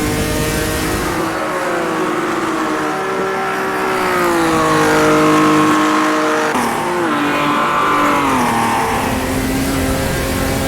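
Race car engine in Automobilista 2 lapping Bathurst, a steady loud droning whine that rises and falls with gear changes and revs, with a brief dip around the middle, continuous and close throughout.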